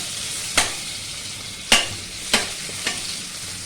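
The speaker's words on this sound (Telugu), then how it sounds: "ఫస్ట్ మనం బిర్యానీ ఆకు వేసుకొని బంగాళదుంపలు కూడా వేసుకొని కొంచెం ఫ్రైలో చేసుకోవాలి" Potatoes and a bay leaf frying in a kadai, with a steady low sizzle broken by four sharp clattering stirs spaced unevenly across the pan.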